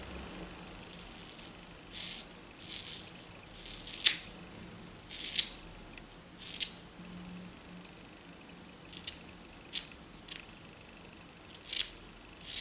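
Scissors snip the ends of hair during a home haircut, a series of sharp, quiet clicks spaced a second or two apart in an otherwise hushed room.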